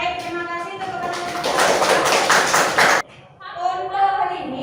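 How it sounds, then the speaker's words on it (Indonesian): A class of children claps together in a burst of dense, rapid applause lasting about a second and a half, cutting off abruptly, with a teacher's voice speaking before and after. "terima kasih tepuk tangan"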